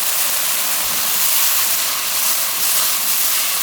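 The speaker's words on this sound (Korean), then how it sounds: "간장물에 잘 맛이 들게끔 살살 볶아주세요" Glass noodles stir-fried in a soy sauce mixture with sugar, garlic and green onion give a steady, close hiss and sizzle that runs without a break and without talk.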